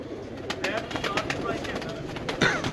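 Pigeons on a Mirpur rooftop give soft cooing and fluttery calls close by, with other voices and movement mixed in around them.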